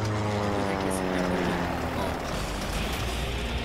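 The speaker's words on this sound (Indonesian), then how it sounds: "What the hell? Helikopter." A helicopter in the Metal Slug 5 video game drones with a steady, loud rotor and engine hum that fills the clip continuously without letup.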